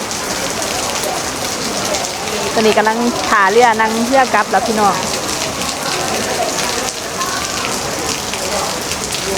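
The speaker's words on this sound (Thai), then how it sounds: "ถ่ายวิว ฝนตก" Rain falls steadily throughout, a dense hiss, while someone speaks briefly in the middle over the downpour.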